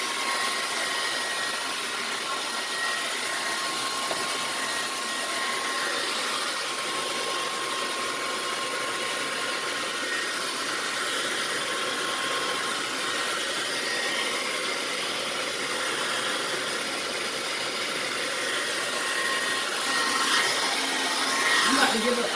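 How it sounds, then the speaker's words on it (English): An old blow dryer runs continuously with a steady, hissing, whooshing drone while drying natural hair, close and loud throughout with no pause. "I got this blow dryer from my grandma who had it when I was with her."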